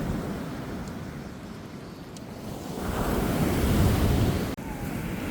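Ocean waves break on a sunny island beach, a close, continuous surf wash that swells and ebbs, with gusts of wind buffeting the microphone.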